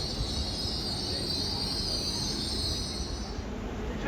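A Class 802 train pulls into Doncaster station, a broad steady roar of wheels on rail with a high metallic squeal along the track, close and fairly loud, fading slightly near the end; no one speaks.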